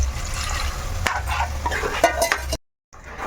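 A glass of water pours into chicken curry with dried coconut powder in a pressure cooker, making a steady splashing, stirring rush. The sound cuts off abruptly into brief silence.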